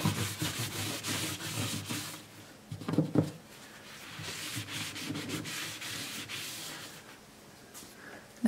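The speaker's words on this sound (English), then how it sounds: "Now I'll wipe the excess off." Cloth wiping excess glue off a freshly fitted bridge on a Gibson J-45 acoustic guitar, a steady soft rubbing scrape close by, pausing briefly near the middle before resuming.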